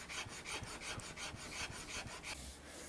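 An Iwasaki file rasps a rosewood guitar neck for a telecaster build in quick, rhythmic back-and-forth strokes. The scraping is close, even and steady, with no talk.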